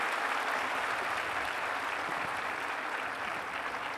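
Audience applause at a Maha Shivratri spiritual panel event, a dense steady patter of many hands clapping together, sustained evenly throughout with no talking over it.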